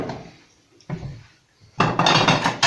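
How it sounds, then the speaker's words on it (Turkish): A ladle scoops yogurt pasta onto a plate with soft clinks and clatter, then a louder stretch of scraping and knocking against the dish near the end, close up. "Ben hemen bir tabak hazırlıyorum size"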